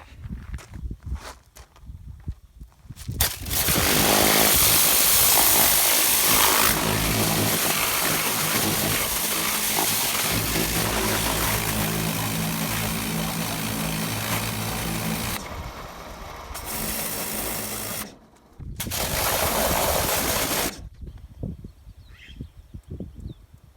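A loud power tool runs continuously on the underside of a 195cc Tecumseh brush mower deck, with brief pauses and restarts and lighter handling noise before and after.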